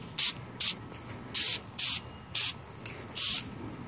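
Short bursts from an aerosol can of brake cleaner hiss out one after another, about seven sharp sprays of uneven length with brief pauses between them, close and fairly loud.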